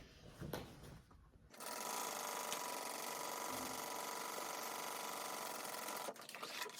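A sewing machine runs steadily for several seconds, stitching rows along the bottom of a crossbody bag, its close, even whir starting and stopping with faint handling noises around it.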